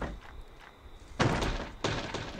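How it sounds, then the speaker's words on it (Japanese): A door is pushed open in the survival horror game Horrorfield, a dull thunk followed by a second heavy thud, heard alone against a quiet, faint ambient hum. "で、扉開ける音が聞こえたので、"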